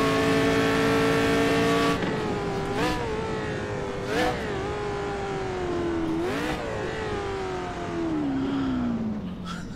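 A prototype race car in Assetto Corsa screams at high revs, its engine pitch rising and dipping through several gear shifts as it accelerates down a straight, loud and continuous.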